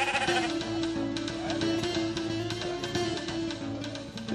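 Sheep bleating on a rooftop in Fez during Eid slaughter, several wavering calls repeating over a steady low hum and scattered clatter, moderately close with no one talking.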